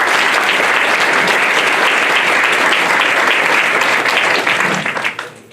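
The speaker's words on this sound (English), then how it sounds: "Another round of applause," A full audience applauds loudly and steadily at a 20th District Senate candidate forum, the dense clapping holding for about five seconds before trailing off at the end.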